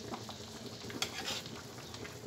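Boiled lemon and sugar syrup poured over a bread dessert, giving a close, steady wet hiss and patter with a few light clinks of a pan or utensil.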